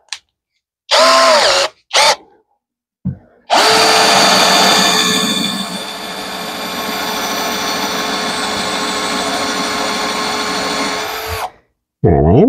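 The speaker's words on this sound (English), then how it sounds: "We could drill a couple holes here." A power drill whirs in short bursts, then runs in one long steady grinding stretch, loud and close, with brief pauses between.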